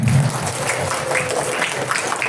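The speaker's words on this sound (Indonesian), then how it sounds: "Sahur, tepuk tangan" Children at a Ramadan pesantren session clap their hands together, a short stretch of scattered, lively clapping from a group indoors.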